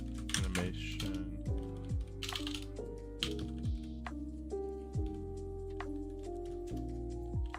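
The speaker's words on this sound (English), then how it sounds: "What am I typing?" Keys clatter on a computer keyboard as someone types code, in quick irregular bursts of clicks under loud, steady background music.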